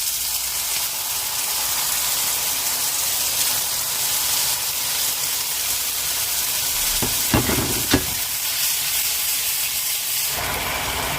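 Food fries in a pan with cooking juices from chicken added, a steady loud sizzle with a few sharp scraping stir strokes near the end, close by with no talk.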